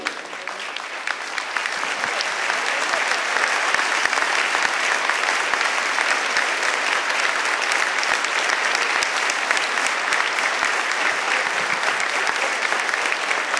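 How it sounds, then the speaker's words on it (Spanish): A standing audience at a political gathering gives warm, sustained applause, dense and steady clapping rising within the first couple of seconds and holding at full strength throughout. "les pido que se pongan de pie y les demos un caluroso aplauso a todos los integrantes del movimiento"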